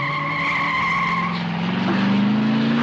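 A car pulls up with tires skidding and squealing, the rising screech building loud and close over a steady engine rumble, with no talking.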